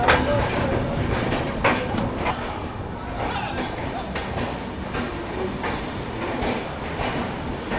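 The Mahima Gosai Express runs on a scenic line in Odisha, a loud, steady rumble of coaches with rhythmic clickety-clack of wheels over rail joints and occasional sharper clanks, close by, with a voice talking over it.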